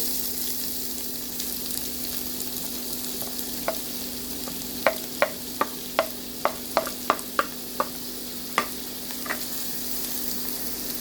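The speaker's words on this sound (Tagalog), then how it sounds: "Now let's fry our prepared onion." Onion frying in hot oil in a pan, a steady sizzle with a series of sharp clicks and taps from stirring partway through, close and fairly loud with no talking.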